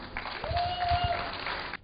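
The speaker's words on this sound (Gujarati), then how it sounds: "જોરદાર તાળીઓથી ફરી એકવાર વધાવી દઈએ." Applause from an award-ceremony audience, a dense, steady patter of clapping lasting under two seconds, with a sustained whistle-like tone running through the middle and no speech.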